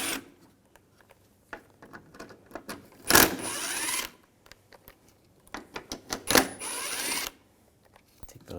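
A socket wrench, likely a ratchet, removes T25 screws on a 2011-2018 VW Jetta AC condenser in bursts of rapid clicking, two longer runs among short clicks, close and alone.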